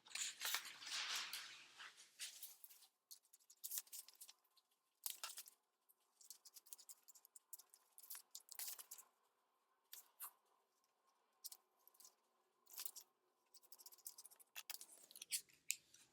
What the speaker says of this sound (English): So I'm going to leave these flaps, and I'm cutting out everything else.